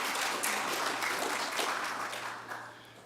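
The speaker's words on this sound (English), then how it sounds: "let's give them a round of applause for coming tonight." People at an evening town candidate meeting give the candidates a round of applause, a brief burst of clapping from a modest audience in a room, fairly even and then fading off toward the end, with no talk over it.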